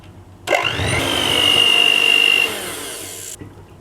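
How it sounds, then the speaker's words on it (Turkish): An electric kitchen mixer whipping cream whirs steadily for about three seconds at close range, with a high whine over a motor drone, then cuts off. "5 dakika kadar mikserle çırpıyoruz."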